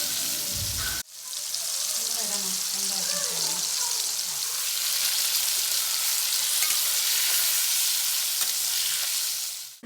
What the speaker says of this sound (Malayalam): ജസ്റ്റ് ഷാലോ ഫ്രൈ ചെയ്തെടുക്കുക. അത് ജസ്റ്റ് ഒന്ന് ഫ്രൈ ആയി വരട്ടെ.